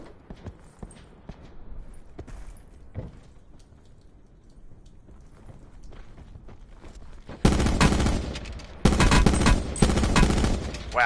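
Burst rifle fire in Call of Duty: Black Ops 4 Blackout, two loud, dense bursts of rapid shots arriving late, after a stretch of quieter footsteps and scattered distant pops.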